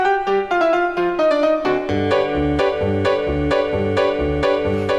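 Song from a Lord of the Rings parody musical, a recorded theatrical number with a steady, bouncy accompaniment and melodic line, played loud and continuous.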